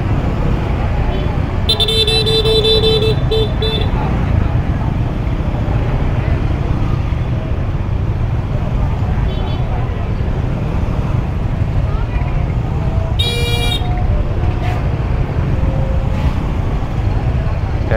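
Congested traffic at Binh Tay market in Cho Lon, Saigon, ahead of Tet: a steady roar of engines and road noise, with a couple of bright, stuttering horn bursts near the start and another burst later, under scattered voices.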